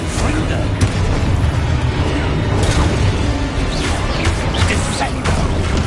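A Confringo fire spell in a Hogwarts video game sets off dense, rumbling blasts and crackling bursts that run continuously at close range, layered with game effects.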